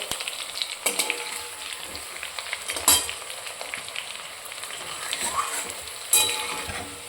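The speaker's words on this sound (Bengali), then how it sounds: "আলুটাকে এখানে আমি লাল লাল করে ভেজে নেবো ভালো করে" Potatoes fry in a pan with oil, giving a steady close sizzle with occasional louder stirring scrapes, no talking over it.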